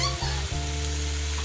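Masala sizzles and fries in a hot pan on a home stove, a steady crackling hiss with a couple of brief clatters near the start.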